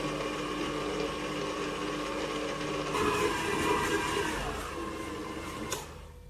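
A stand mixer kneading burger bun dough on its lowest speed gives a steady, moderately loud motor hum with a faint mechanical whir, continuous throughout and briefly louder midway.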